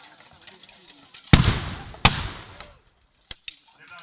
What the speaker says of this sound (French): Réplique des canons du Seigneur.